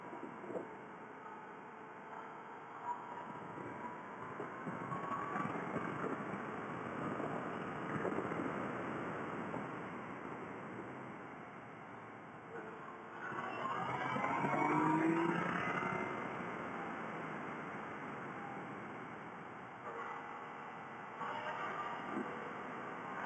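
A Yamaha Niken three-wheeled motorcycle cruising along a winding road gives a steady engine drone under broad wind rush, swelling louder near the middle and easing off toward the end, with no talk.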